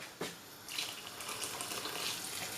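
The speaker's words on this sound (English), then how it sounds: "Right now, I'm gonna show you how much water to add." Water pours steadily into a Jamaican Dutch pot of curry chicken as a continuous hissing gush, fairly close and moderately loud, with a brief clunk at the start and no talking.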